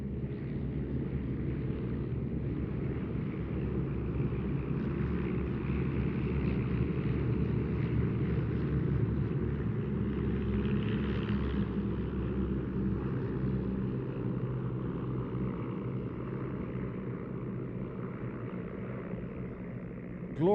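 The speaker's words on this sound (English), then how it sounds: "Glorious sound of that 130 horsepower de Havilland Gypsy Major engine." A vintage aircraft powered by a 130 horsepower de Havilland Gipsy Major engine makes a steady propeller drone throughout, swelling slightly mid-pass as it flies by, with some wind noise.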